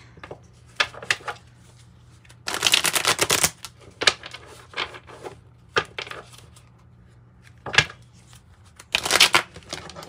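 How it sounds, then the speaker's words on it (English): Tarot cards being shuffled in quick, dry riffling bursts separated by short quiet gaps, close and fairly soft, with no talking. "One more good shuffle and then we will cut."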